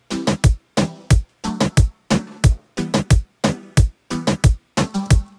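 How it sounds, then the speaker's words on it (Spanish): A punchy plucked synth loop repeats in a steady, driving rhythm, short bright notes hitting on each beat, loud and alone. "a ellos les gusta ese plug que vaya marcando el tiempo"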